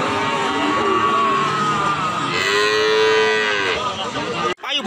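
Cattle at the Pon cattle market in Blora, Central Java, with one long, loud, drawn-out moo and a second lowing call over a busy background of crowd murmur.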